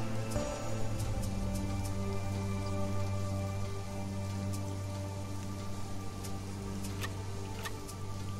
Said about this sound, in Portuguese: Ótimo que tá chovendo pelo menos um dia inteiro, né?